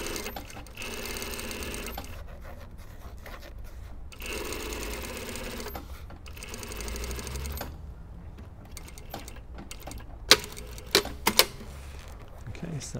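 A sewing machine stitching a godet seam in fabric runs in several bursts of rapid, even mechanical whirring separated by short pauses, close and clear, followed by a few sharp clicks and taps near the end.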